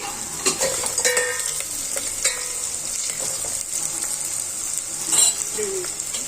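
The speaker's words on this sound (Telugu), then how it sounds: "అల్లం వేసుకొని అది కొంచెం పచ్చివాసన పోయిన తర్వాత వన్ టీ స్పూన్ ధనియాల పొడి వేసుకోవాలండి" Coriander powder is stirred into frying ginger in a potato and mint masala, giving a soft steady sizzle with scraping spoon strokes and a few light clinks against the pan.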